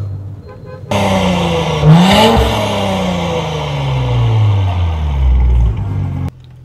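A tuned Audi S5 with a Stage 2 setup revs in a garage, its loud close exhaust rising sharply, then falling and climbing again in a long sustained pull before cutting off abruptly.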